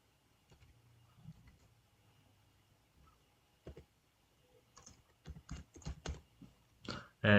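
Keys on a computer keyboard are typed in a quiet room, with a few soft isolated taps early on, then a quicker, louder run of keystrokes toward the end.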